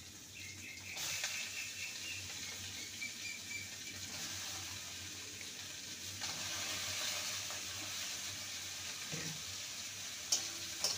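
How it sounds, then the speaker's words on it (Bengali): Shredded cabbage sizzles softly in a pan while being stirred for a breakfast dish, a low steady frying hiss with occasional scrapes and a small clink near the end, quiet and without speech. "ভালো করে নেড়ে নেব।"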